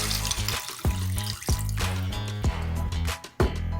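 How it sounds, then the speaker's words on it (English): Water being poured into a pan of cooked ground beef for stroganoff, a splashing, gurgling pour broken by several sharp spurts and drips across a few seconds, close and alone. "We're going to add our 4 cups of"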